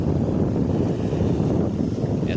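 Strong wind sweeps across the open Padma river, a steady, loud, low roar buffeting the microphone throughout with no voices.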